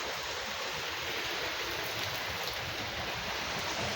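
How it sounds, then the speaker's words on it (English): Steady rain pours outside during a rain delay, a dense, unbroken hiss and patter filling the whole span at even loudness, with no voices. "it doesn't look like the rain's gonna slack up any"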